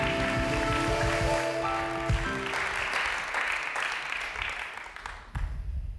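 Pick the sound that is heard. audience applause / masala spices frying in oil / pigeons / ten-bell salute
audience applause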